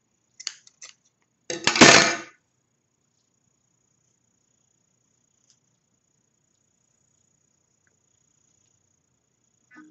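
Scissors snipping through yarn while finishing a crocheted amigurumi piece: a couple of faint ticks, then one short, crisp cut up close, followed by near silence.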